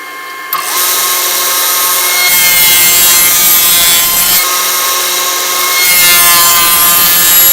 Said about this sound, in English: I'll cut the dado through that